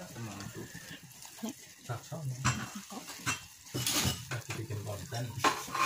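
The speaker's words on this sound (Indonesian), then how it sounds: "Lalu kita masak bahan-bahan ini dengan api yang sedang sambil terus diaduk-aduk supaya bagian yang ada di dasar panci" A spoon stirs a pudding mixture in a pot over a medium flame, with repeated scraping and metallic clinks against the pot bottom, close and fairly loud.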